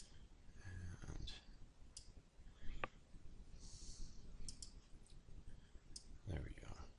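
A computer mouse clicks while drawing a classic car in Inkscape, a few sharp isolated clicks spaced irregularly over quiet room noise, with soft voice sounds in between.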